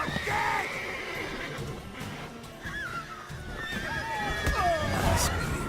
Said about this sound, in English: Calm down, horses.